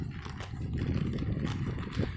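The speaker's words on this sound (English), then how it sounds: "There's that horse." Hooves of a big horse clip-clop at a walk on the ground nearby, soft repeated thuds under steady outdoor background noise, with no talk.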